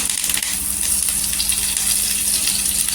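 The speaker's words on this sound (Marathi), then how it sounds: "तेल असं गरम झालं इथे कढीपत्ता टाकायचा" Curry leaves sizzling in a spoonful of hot oil in a pan, a steady loud hiss throughout, close and continuous.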